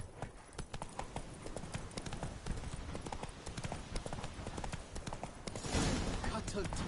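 Horse hooves in Witcher 3 Blood and Wine: a rapid, continuous clip-clop of a galloping horse, close and fairly loud, with game voices talking over it.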